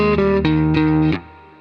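Distorted electric guitar plays a short riff straight rather than swung, a few even, strummed chord hits that ring out and fade, loud and close with no voices.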